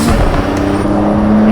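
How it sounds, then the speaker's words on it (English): A Toyota Supra's turbocharged engine in the racing game Project Cars 3, a loud close engine roar with a sustained whining tone. "Oh my god, the turbo sound is so loud."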